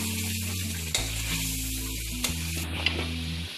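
Liver, kidney and heart in masala stirred while frying in a pan, giving a short burst of steady sizzling with a few spatula scrapes, over background music.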